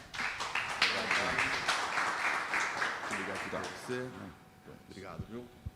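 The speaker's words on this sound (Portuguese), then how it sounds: "Uma salva de palmas" Audience applause for a speaker at a team-development talk: a dense wash of clapping that fades out over a few seconds, with a voice beginning to talk beneath it near the end.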